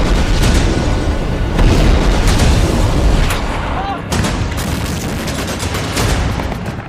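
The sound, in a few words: bombing explosions and gunfire in war news footage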